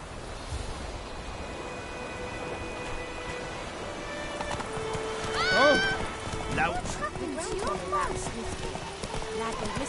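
Horse in The Witcher 3 on PS4 trotting with steady clip-clop hoofbeats and a whinny midway, set against a game soundtrack and ambience, with a voice speaking over it.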